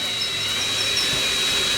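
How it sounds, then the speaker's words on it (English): Power drill boring out snapped exhaust studs, a steady, loud whirring drone with a thin high whine, running continuously at slow speed. "Now, when you're drilling this, you want to make sure you try and go as slow as possible and as straight as possible."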